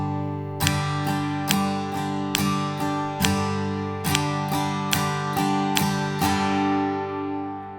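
An acoustic-style guitar strums chords in a steady pattern with the first up strum removed, leaving a gap after the downbeat; about a dozen bright, ringing strums sound close and clear with no talking.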